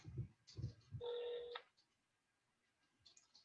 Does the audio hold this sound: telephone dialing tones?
yes